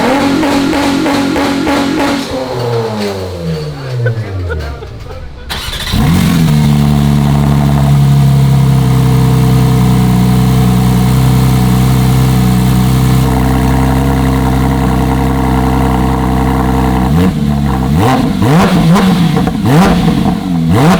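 A Porsche 992 GT3 fitted with a new aftermarket exhaust, revving loudly and close by in a few sharp throttle blips at the start, then settling into a steady, rumbling idle before another rev near the end.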